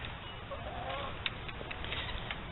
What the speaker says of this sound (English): I have 13 hens.